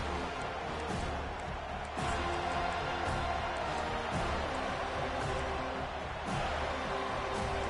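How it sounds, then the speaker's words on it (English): A large stadium crowd at an FSU vs UCLA football game roars continuously, a dense, loud wash of cheering with occasional swells and faint voices mixed in. "Listen to this crowd just shaking the girders of this place, trying to help their defense."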